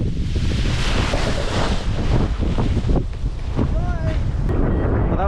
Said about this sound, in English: Just too windy.